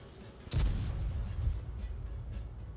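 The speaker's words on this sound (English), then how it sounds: "I could tell by the explosion that I hit a rock." A tank shell explosion striking a rock in a tank video game: one sudden, loud boom that rings out and then rumbles on steadily beneath continuing low game noise.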